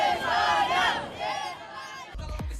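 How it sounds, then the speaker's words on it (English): A huge crowd roars at the Spain football team's victory parade in Madrid, a loud swelling mass of cheering voices that rises, fades and surges again before a few sharp knocks at the end. "The team were greeted by huge crowds in the capital, Madrid."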